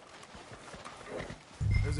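Horse hooves clip-clopping in the Red Dead Redemption 2 video game on PlayStation 4 Pro, a series of soft hoof beats ending in a louder, heavier thump.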